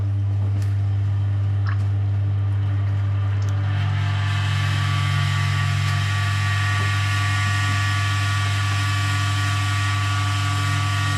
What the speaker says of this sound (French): Là on voit bien que l'huile usagée sort bien de la boîte